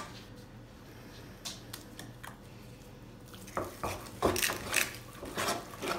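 Eggs being mixed into cooled cream puff dough in a bowl make faint scattered taps at first, then a denser run of wet scraping and knocking strokes in the last few seconds, close and moderately loud.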